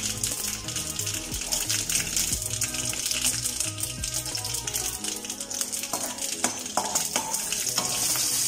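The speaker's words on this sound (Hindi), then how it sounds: "तेल, जब गर्म हो जाए तो इसमें राई डाल दें" Mustard seeds hit hot oil for a Bohra-style khaman dhokla tempering and crackle in a steady, bright sizzle, with scattered sharper pops toward the end, close and continuous without talk.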